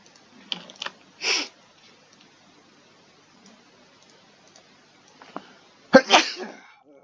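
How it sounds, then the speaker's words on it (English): Soft sneezes and breathy bursts sound close to the microphone in a quiet room, a few short ones early and a sharper, louder sneeze near the end. "Sneezed."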